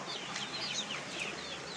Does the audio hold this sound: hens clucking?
yes